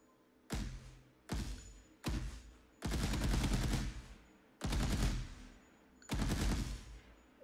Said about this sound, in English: So when I keep shooting,